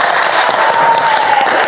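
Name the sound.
applause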